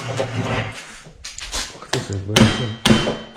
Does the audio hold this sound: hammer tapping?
yes